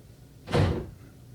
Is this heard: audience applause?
no